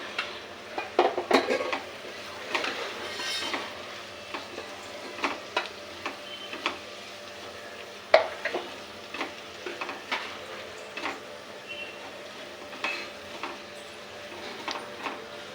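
Fish pieces frying in a pan with soft steady sizzling, broken by repeated scraping and stirring clatters of a utensil against the pan at close range.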